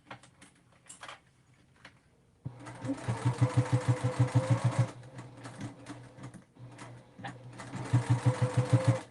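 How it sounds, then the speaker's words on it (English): A sewing machine stitches a quarter-inch seam along a seam guide for a double pocket folder, running in two close, loud bursts of rapid, even stitching separated by a short pause. "And I'm using my seam guide for my 1/4 inch seam."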